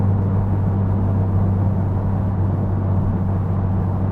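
A Honda Civic Type R FK8 fitted with a Greddy DDR resonated exhaust gives a steady, loud low drone with a constant rumble throughout, no voices over it.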